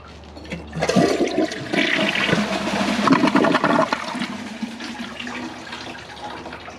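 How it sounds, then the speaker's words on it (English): A 2012 Kohler Santa Rosa toilet with a replacement fill valve flushes with a loud, close rush of water that swells, holds for a few seconds, then drains away and fades. "Let's give this a flush."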